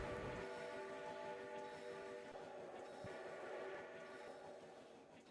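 A train hauling a freight consist pulls away, a continuous low rumble and rolling hum with faint tonal whine fading slightly toward the end, heard at a distance and fairly quiet.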